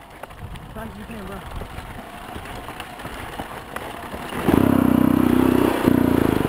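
A flooded Honda CR125 two-stroke dirt bike sputters during a bump start, turning over roughly before catching into a louder, uneven burst near the end; voices talk over it.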